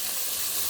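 Peas go into a hot pot for a Jamaican seafood stewed peas dish, giving a brief, steady broadband sizzle of frying with no voices.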